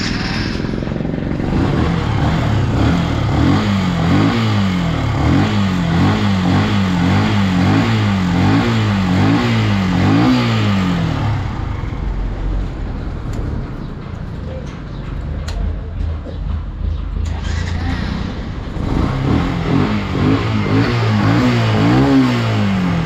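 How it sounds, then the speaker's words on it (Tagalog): A Yamaha FZ motorcycle, fitted with a new starter motor and clutch lining, runs loudly with a steady repeating engine pulse. It idles and revs for about eleven seconds, drops lower, then picks back up near the end. "gumagana na rin yung ating starter motor tsaka yung ating clutch"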